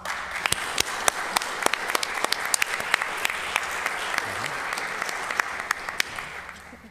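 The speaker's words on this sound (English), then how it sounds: "Another wonderful round of applause for all of these 3 nights." A seated audience applauds at the close of a three-night scholars symposium, a steady wash of many hands with a few sharp nearby claps standing out, fading slightly at the end.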